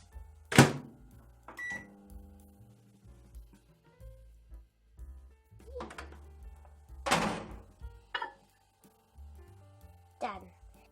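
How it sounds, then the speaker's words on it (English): A microwave oven melting butter runs with a steady low hum, broken by door thunks and clicks, a few sharp beeps and some muffled background voices. "So now we're going to melt the butter in the microwave."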